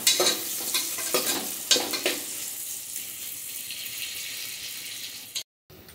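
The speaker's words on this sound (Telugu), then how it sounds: "ఆనియన్స్, పచ్చిమిర్చి ఫ్రై చేసుకోవాలండి" Onions and green chillies fry in a pan with a close, steady sizzle, punctuated early by several sharp stirring scrapes and knocks, then settling into an even hiss before cutting off abruptly.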